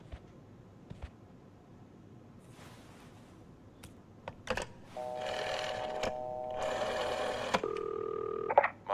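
A telephone being dialed to call the police, heard as a few quick key clicks followed by a run of loud dual-tone keypad beeps, close up with no talking.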